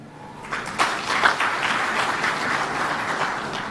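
Audience applause at a live event marking 20 years of financial inclusion, a steady wash of many hands clapping that swells after the first half second and holds at an even, moderately loud level throughout.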